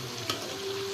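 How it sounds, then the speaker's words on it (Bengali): Pitha cakes frying two at a time in a pan over a wood fire: a steady, close sizzle with one brief clink partway through. "এই দেখো আমাদের এখন দুটো দুটো করে ভাজার প্রসেস চলছে।"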